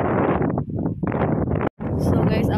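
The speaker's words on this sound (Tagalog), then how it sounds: "Sobrang lakas ng hangin." Strong gusts at a lakeside park in Germany buffet the microphone in loud, rumbling bursts, broken by a brief dropout, while people talk underneath.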